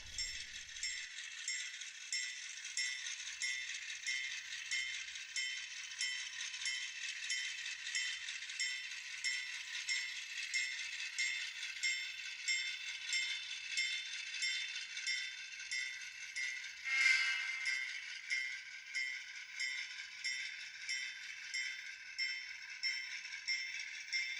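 A model railroad train backs along the track, clicking and rattling steadily for a long stretch, a rhythmic metallic clatter with one louder clunk midway.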